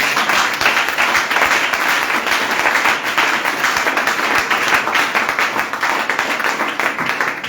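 A church congregation applauds at a Sunday service, a dense, steady wall of clapping from many hands that stays loud and even for the whole stretch, with no voices rising above it.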